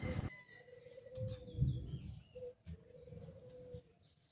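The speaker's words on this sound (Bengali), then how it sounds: "এখানে কিন্তু বিভিন্ন জাতের কবুতর রাখা হয়েছে, দেখতেই পাচ্ছেন।" Pigeons of various breeds kept in cages at a large garden resort coo softly in low repeated phrases, fairly quiet and close, with a few faint chirps.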